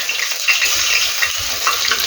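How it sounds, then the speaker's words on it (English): Ginger and garlic dropped into hot oil, giving a loud, steady, close sizzle and hiss that fills the whole short moment with no speech. "So I will add my teaspoon of ginger into this oil. I will also add my teaspoon of garlic."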